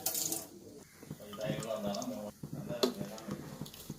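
Lime sediment from settled ginger juice being poured into a sink as a kitchen preparation step, a soft close splashing pour running under quiet talk.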